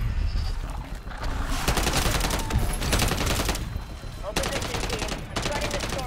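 Rapid submachine gun bursts ring out in a Call of Duty Zombies game, several loud automatic volleys separated by short pauses, with a voice talking over parts of the firing.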